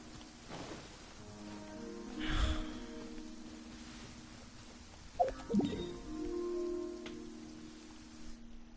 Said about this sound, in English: Oh yeah, because it's raining.